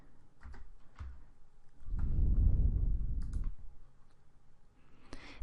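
Computer keyboard keys and mouse buttons click sporadically at close range during a software training session, with one louder rustling burst in the middle before the sparse clicks resume.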